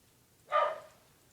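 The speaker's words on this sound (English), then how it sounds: "And my dog is going ballistic because there's people coming over" A single short dog bark sounds indoors, fairly distant and soft, from an excited house dog reacting to visitors arriving.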